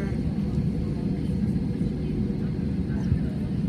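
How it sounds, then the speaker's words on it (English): Broadband jet aircraft rumble at Punta Cana airport, steady and fairly distant, droning continuously with no clear peaks, under faint background chatter. "Those jet planes over there."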